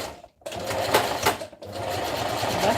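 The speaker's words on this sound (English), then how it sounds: "Back stitch when you get to the end, back stitch when you start, so that everything will just be fine." A sewing machine stitches fabric in a rapid, steady whir close by, pausing briefly twice before running on continuously, with a voice speaking faintly over it.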